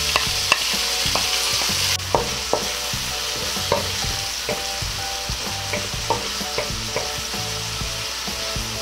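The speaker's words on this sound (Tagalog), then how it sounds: "Susunod ko na po itong kamatis sa paggigisa." Tomatoes sautéing with garlic in a pan hiss in a loud, continuous sizzle, punctuated by regular clinks and scrapes of a stirring utensil against the pan, with no voices.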